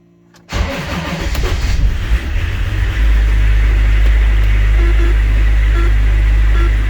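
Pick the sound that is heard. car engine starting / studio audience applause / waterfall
car engine starting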